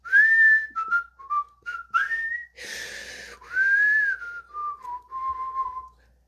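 A footman whistles a lively tune alone, a string of clear, wavering notes with short gaps between phrases and a brief breathy burst in the middle, close and fairly loud.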